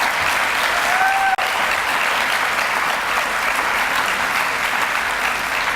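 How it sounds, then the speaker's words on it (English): Steady, dense applause from an audience at a progressive arts event, honouring the event organiser. It is loud and sustained, with one brief sharp click partway through. "today we need to give Catherine Russell a great round of applause for such a great event."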